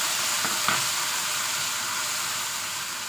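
Corned beef sautés with onions in a pan, a steady close sizzle with a couple of quick stirring scrapes near the start, then an even hiss.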